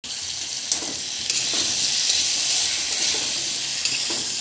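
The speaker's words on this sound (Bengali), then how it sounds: "ভালো করে কষে নেব" Potatoes with green chili sauté in a pan with a loud, continuous sizzle and close stirring scrapes, steady from start to finish, with no voices.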